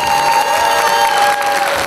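An audience applauds at a theatre anniversary celebration, with sustained clapping and crowd noise filling the hall. Steady ringing tones sit over the applause throughout.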